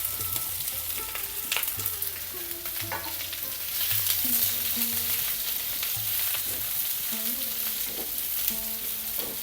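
Chopped onions frying in hot oil in a pan for egg curry, a steady close sizzle throughout with stirring scrapes and faint tonal hums from background music.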